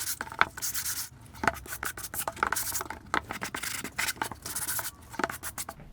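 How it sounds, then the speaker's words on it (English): Wooden box being sanded by hand, close and fairly quiet, with quick uneven rasping strokes in an irregular rhythm. "Now I'm going to sand it a bit."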